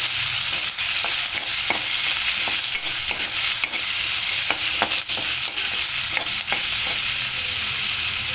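Onions fry in a pan with cumin, with a loud steady sizzle and frequent rhythmic scrapes of a spoon stirring them, close and continuous.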